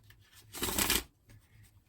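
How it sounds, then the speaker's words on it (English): A deck of tarot cards is shuffled in one quick riffle, a burst of dense papery flutter peaking midway, with a soft rustle of handling before and after. "Let me shuffle this"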